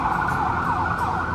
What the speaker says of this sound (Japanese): これ救急車でしょ。